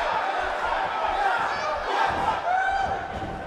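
An arena crowd in the wrestling video game WWE 2K18 roars and cheers continuously at a match in Orlando, a dense, loud wash of voices with shouts rising out of it.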